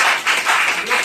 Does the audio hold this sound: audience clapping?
yes